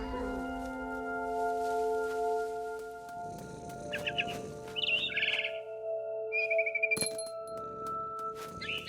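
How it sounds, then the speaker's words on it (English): A barn swallow chirping outside a window in the video game What Remains of Edith Finch, a few short bright twittering bursts over a soft sustained musical drone, fairly close and clear. "I heard chirping outside my window. It was a barn swallow going back to her nest."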